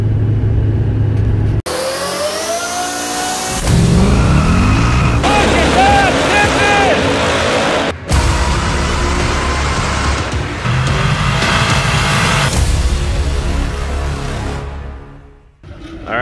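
A truck drives along the road, its engine running steadily and rising as it accelerates, with talking over the top throughout.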